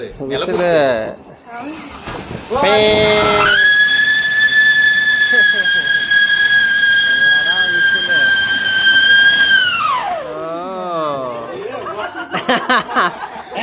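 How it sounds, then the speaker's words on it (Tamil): A Diwali whistling firecracker shrieks with a loud, sustained high-pitched whistle lasting several seconds, rising at the start and dropping away at the end, with people talking and laughing around it. "பயங்கர விசில் அடிக்குது."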